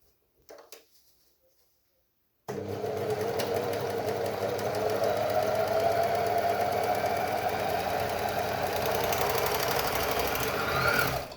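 Close, steady whir of a sewing machine stitching a straight line on fabric, starting abruptly after a few quiet seconds with some handling clicks and running without pause to the end.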